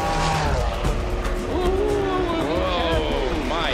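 A tired-tyred Audi race car skids back onto the track, tyres squealing in rising and falling yelps over engine roar while a commentator talks throughout.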